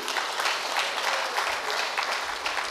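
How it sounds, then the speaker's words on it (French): Loud, sustained applause from an audience at the official ceremony celebrating International Customs Day 2020, honoring private operators; dense clapping fills the whole stretch without pause. "Je vous demande d'applaudir très fort pour nos opérateurs privés."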